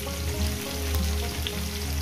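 Chopped spinach and radish vegetables fry in oil in a pan for a vegetarian chorchori, giving off a steady, close-up sizzle over a low background hum, with no voices.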